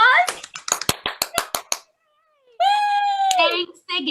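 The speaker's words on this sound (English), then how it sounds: "Let's give them all a round of applause." A small group claps about eight separate, spaced claps alongside excited children's voices, then a pause, and a child's high squeal or shout follows.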